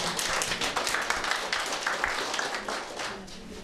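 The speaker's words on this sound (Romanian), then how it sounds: "Aplauze!" Sustained applause from an audience at a kindergarten's 40th anniversary celebration, a thick steady wash of many hands clapping that continues throughout.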